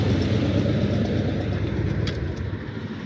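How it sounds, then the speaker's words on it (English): Patina-finished Chevy box car engine idling steadily nearby, a continuous low rumble with slight lumpy pulsing and no voices. "Let me shut this motor off, y'all."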